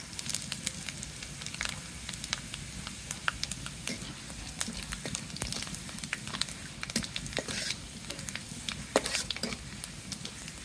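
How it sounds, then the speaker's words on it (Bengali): Young bottle gourd sizzles and fries in a hot wok with spice tempering, a steady close crackle with scattered sharp pops and soft stirring throughout, no talking. "এই কড়াইতে এখন আমি লাউ তুলে দেব।"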